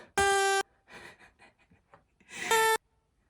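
Two short, buzzy, pitched party blower toots, one at the start and one near the end, with soft breathy noises in between.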